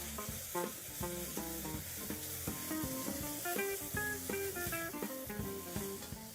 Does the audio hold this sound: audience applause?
no